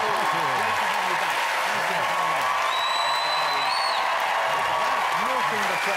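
A television studio audience applauds a returning chat-show guest, a dense steady wash of clapping held at even loudness throughout, with voices speaking over it.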